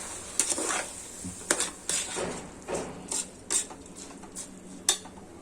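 Rice and meal maker chunks are stirred in oil in a metal pot, giving a series of sharp, irregular scrapes and clinks of a spoon against the pot over a soft background sizzle.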